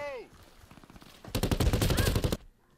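Desert Tech MDRX submachine gun in a video game firing a rapid, loud automatic burst of about a second, preceded by lighter scattered shots.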